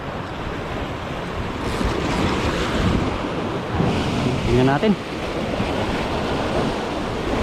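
Rough ocean surf breaks on an island shore where people are fishing, a steady roaring wash of waves with wind buffeting the microphone throughout, and someone speaks briefly partway through.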